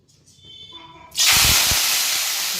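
Wet fenugreek greens with green chillies and coriander hit hot tempering oil in a sudden loud burst of hissing sizzle that holds steady and fades slightly, after a quieter opening with faint tonal sounds.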